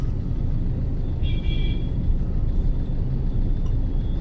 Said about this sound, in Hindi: थोड़ा ट्रैफिक तो रहेगा।